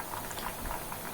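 Banana chips frying in hot oil just after salted water is added, giving a brief, moderately soft fizzing and bubbling hiss with small crackles.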